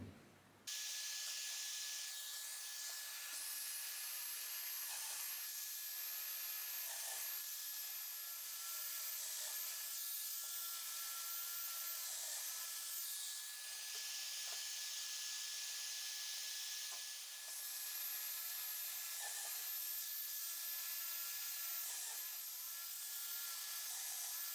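A domino joiner cuts mortises into wood. Its motor gives a steady high whine that runs almost without break, with brief dips as each cut is made.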